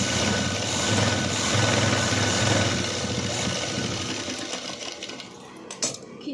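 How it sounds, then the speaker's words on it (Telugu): Sewing machine stitching along the lower border of a blouse, a steady close mechanical whir running continuously before slowing and fading near the end. "అయితే కింద వైపు బార్డర్ సైడ్ బార్డర్ వైపు స్టిచ్ చేసుకుంటున్నాను."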